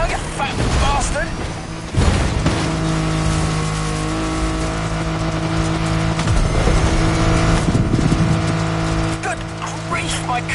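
A race car in The Crew driving game roars at full speed, its engine whining steadily with revs rising and falling, tires squealing and a loud thump midway, while someone talks over it.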